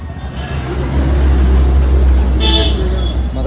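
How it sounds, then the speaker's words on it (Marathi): A newly installed horn on a ten-year-old Honda Activa 3G scooter sounds in a steady, loud, close tone that holds for the whole stretch without pause. "मगाशी एक हॉर्न एक लावला आतमध्ये, थोडा आवाज व्यवस्थित येतोय"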